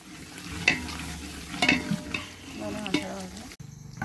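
Food frying in hot oil over a wood-fired stove with a steady sizzle, punctuated by a few sharp scrapes of a utensil stirring the pan.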